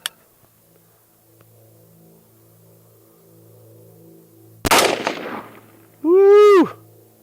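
A single unsuppressed 5.56 rifle shot through a muzzle brake on an outdoor range cracks sharply after a quiet hum, very loud and close, followed by a rising whoop of a voice.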